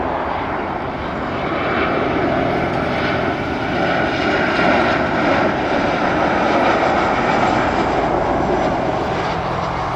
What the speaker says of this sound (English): 757 of Delta heading off to Minneapolis stateside